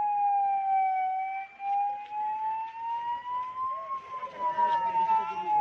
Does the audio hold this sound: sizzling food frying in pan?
no